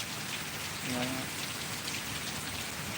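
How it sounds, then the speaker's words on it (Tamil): Heavy rain falling during a storm near a house and banana trees, a dense, constant hiss of drops that holds evenly throughout, with no voices. "இன்றைக்கி மழை அதிகம் தான் ஃப்ரெண்ட்ஸ்"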